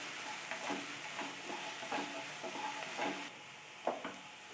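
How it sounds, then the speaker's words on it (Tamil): Spring onion and peas fry in a pan with a soft, steady sizzle, broken by a few scraping stirs of a spoon, quiet and close. "அடுத்தது பட்டாணி, இது எல்லாத்தையும் போட்டு நல்லா ஃப்ரை பண்ணிக்கலாம்."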